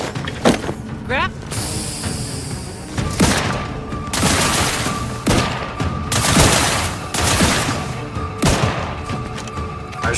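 Bursts of gunfire in The Outer Worlds 2 crack out in irregular volleys with booms and impacts, loud and close, while a voice talks between shots.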